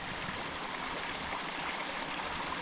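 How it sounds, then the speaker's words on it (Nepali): Mountain spring water in the hills of eastern Nepal pours steadily into containers, making a continuous, even rushing splash at close range with no voices. "आएको पानी चाहिँ हामीले भर्दैछौँ"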